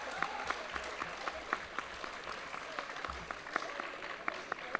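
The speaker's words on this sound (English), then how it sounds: "applaud for the fighters." Audience at a fencing tournament final applauding, a steady patter of many hands clapping at moderate distance with a few sharper individual claps throughout.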